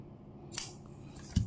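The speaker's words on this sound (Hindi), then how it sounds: "एक्सेसिव ऊन जो है उसको मैं काट दूंगी" A single crisp snip of scissors cutting excess yarn from a crocheted butterfly, close and quiet, followed by a soft thud.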